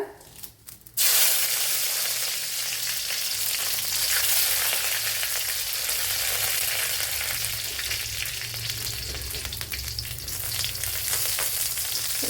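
Dried red chillies and curry leaves fry in coconut oil, a loud, steady crackling sizzle that bursts in after a quiet first second and then keeps going without a break, with no talking.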